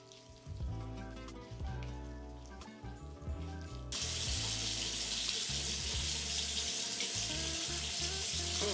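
Tap water runs steadily into a sink for someone washing their face with a jelly-textured cleanser; the flow starts partway through and continues loud and broadband until the end, with no talking.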